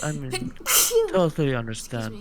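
A single sharp sneeze bursts out between stretches of conversation, loud and close, with people talking before and after it.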